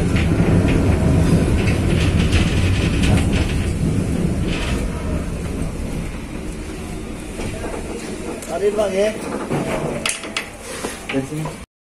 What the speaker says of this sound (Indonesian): perjalanan saya bersama kereta api Dharma Wangsa masuk stasiun Randu Blatung